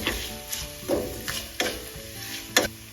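Dry ground spices, including turmeric, garlic powder and asafoetida, are stirred together in an unheated pan for peach pickles, making about six quiet, irregular scraping strokes spaced roughly half a second apart.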